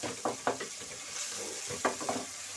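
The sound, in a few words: stirring minced meat with tomatoes frying in a pan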